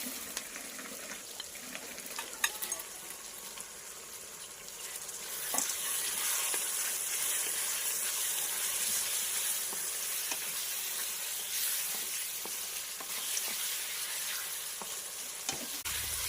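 Mud crabs frying in a pan for a village-style crab curry, a continuous close sizzle that swells louder after a few seconds, with occasional small clinks and no speech.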